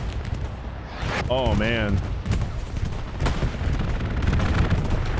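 Continuous battlefield rumble from the Hell Let Loose WWII shooter, with artillery, a bombing run and strafing gunfire blending into a dense roar throughout, while a voice briefly exclaims over it.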